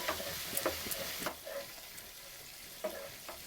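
Potato curry with yogurt sizzling and frying in a pan, with scattered scraping stir strokes and soft clicks over a steady low hiss, close and moderately quiet.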